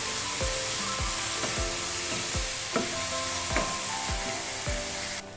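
Tomatoes with a little salt sautéing in a pan for fish gravy: a loud, steady sizzle broken by regular spatula strokes about twice a second, close up and with no talking.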